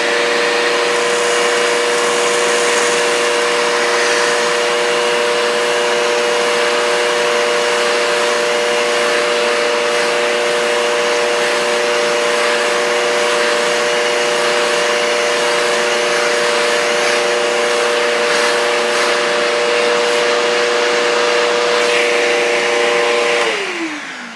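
A Bissell upright vacuum cleaner runs straight suction through its dusting brush, a loud, steady, droning whine held for over twenty seconds before spinning down at the end, with no one talking.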